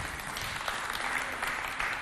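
An audience applauding during a French-language show taping: dense, steady clapping fills the whole moment at an even level, with no voices heard over it.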